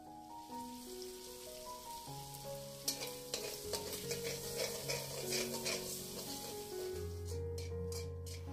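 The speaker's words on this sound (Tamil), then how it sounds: "அதோட அந்த எண்ணெயிலேயே வந்து ஒரு 3 முட்டை சேர்த்துருக்கிறேன், அதையும் வந்து நல்லா ஸ்க்ராம்பிள் பண்ணி எடுத்துக்கொள்ளலாம்" Squid, prawns and three eggs fry and get scrambled in oil, a continuous sizzle with rhythmic scraping and stirring strokes, while faint background music plays underneath.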